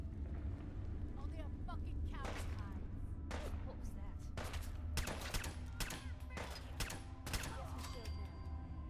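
Sharp gunshots from a firefight in Fallout 4 on PS5, several bursts and single cracks spread over the stretch, some in quick clusters, over a steady low game hum.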